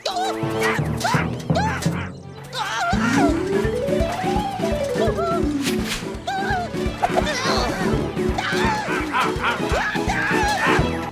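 Repeated loud dog barks ring out over a busy cartoon soundtrack with music and crashes, barks coming in quick bursts.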